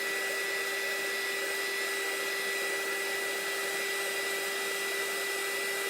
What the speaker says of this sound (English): this is a little heat gun for crafts